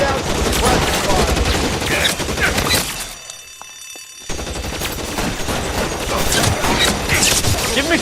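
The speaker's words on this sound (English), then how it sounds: "I'll lay down some suppression fire." Dense bursts of suppressive gunfire in the L.A. Noire video game crackle loud and continuous, break off for about a second, then resume with sustained rapid shots, with speech mixed in.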